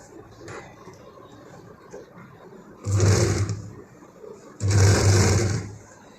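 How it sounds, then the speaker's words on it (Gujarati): A sewing machine stitches along the zipper of a handmade purse in two loud bursts of about a second and a half each, separated by quieter handling noise and faint background sound. "હવે અહીંથી સિલાઈ કરી લેશું।"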